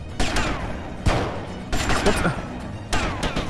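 Gunfire from a handgun in the video game GTA Vice City: several loud, sharp shots at uneven intervals over game background sound.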